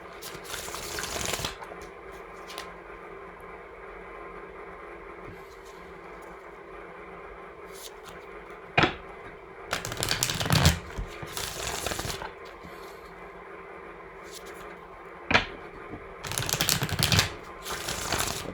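A 1975 Royal Fez tarot deck is shuffled in several quick, crisp riffling bursts, with quiet pauses between them.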